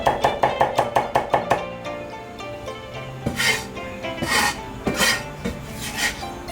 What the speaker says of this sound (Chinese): 剁成蒜末